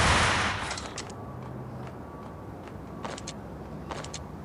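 Gunfire in the mobile shooter game Max Payne Mobile: a loud burst of rapid shots opens, followed by a few shorter, quieter bursts of shots about halfway through, with no talk.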